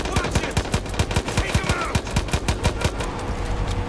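Rapid full-auto gunfire in the video game Far Cry 5, a steady burst of evenly spaced sharp shots lasting several seconds, loud and close with no talk over it.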